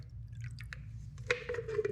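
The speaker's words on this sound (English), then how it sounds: "I'm gonna pour some water in here, pretend this is fuel." Water is poured into a car's fuel container, starting with scattered drips and then building into a steady, close trickle of liquid filling the vessel.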